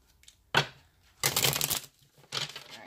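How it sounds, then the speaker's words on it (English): Tarot cards are shuffled in three quick riffling bursts, close and crisp, with short quiet gaps between them. "So let's shuffle and let's do your clarifier"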